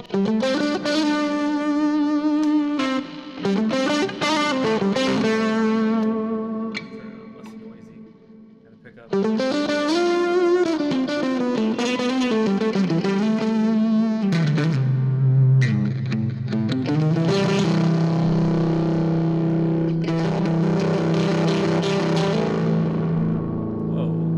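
Distorted electric guitar through an Axe FX 3 amp modeler with loudspeaker modeling rings out, sustained chords and bending notes with a brief quieter dip, loud and close, ending in a heavy low drone.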